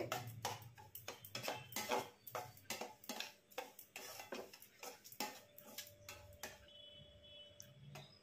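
Gram flour being stirred and dry-roasted in a pan for a sweet, a quick run of close metallic scrapes and taps of the spoon against the pan, fairly quiet, easing off toward the end with a faint hum, no talking.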